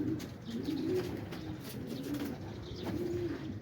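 Pigeons in Quetta, Pakistan coo softly in repeated low throaty phrases, fairly near but quiet, with faint chirps and background noise.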